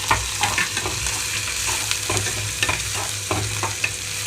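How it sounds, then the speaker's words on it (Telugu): Chopped onions and green chillies fry in hot oil over a tempering, giving a steady close sizzle with the occasional scrape of a stirring spoon. "ఇందులోకి కట్ చేసి పెట్టుకున్న ఉల్లిపాయలు అలాగే పచ్చిమిరపకాయలు వేస్తున్నాను"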